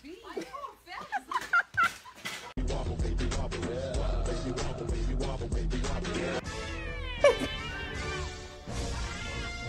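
A cat meows in a series of sharp, rising and falling cries at the start, followed by a denser, mixed stretch of sound with a voice talking and further wavering meow-like calls near the end.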